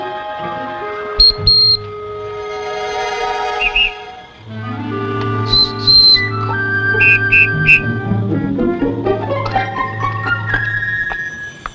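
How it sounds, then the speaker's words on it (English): A whistle made from an eagle's wing bone gives several short, shrill high-pitched blasts, alone at first and then over low background music. "Whistle made from wing bone of eagle."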